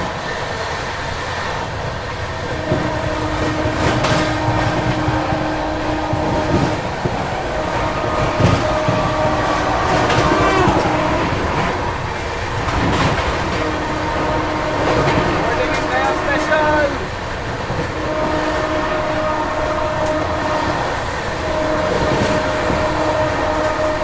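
The Bihar Sampark Kranti Express runs fast with a loud, sustained rumble, steady wheel clatter and rattling carriages heard from close by. Occasional squeals and rising bursts of noise mark the high speed.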